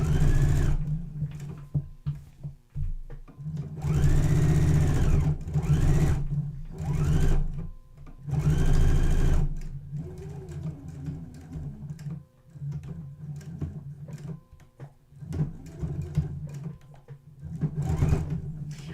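A sewing machine quilts a festive table runner, running in loud, close bursts of rhythmic stitching with brief stops between them, and no voices.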